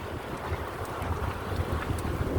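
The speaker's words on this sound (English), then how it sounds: "There is a nice wind down here." Steady wind gusting across the microphone on a harbor front by the water, a continuous low rumbling buffet with a faint airy hiss, fairly loud and unbroken, with no voices.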